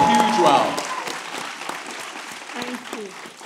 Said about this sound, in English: I want you all to give Ms. Rita Samuels a huge round of applause.